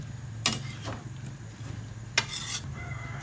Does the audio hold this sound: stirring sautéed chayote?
yes